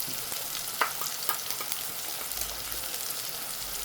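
Masala mixture being stirred in a pan over heat, with a steady broadband sizzle and scattered scraping clicks of the spoon against the metal, close and moderately loud, with no voices.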